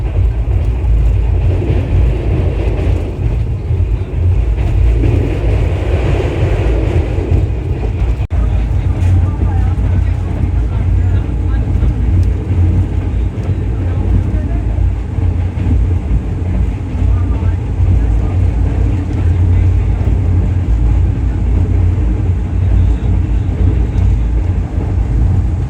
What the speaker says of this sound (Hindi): गाड़ी राइट टाइम है और रायगंज जंक्शन रेलवे स्टेशन से रवाना हो रही है